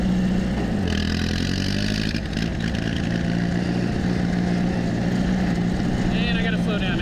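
A 1956 Massey-Ferguson 50 tractor runs steadily in third gear across a bumpy pasture, its engine droning loud and close throughout with a low rumbling hum, while a voice talks over it.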